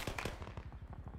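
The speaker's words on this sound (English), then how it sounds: "Keep firing, same place." Weapons fire in the military game ArmA 3, a rapid rhythmic string of close, punchy shots in a short burst with no speech.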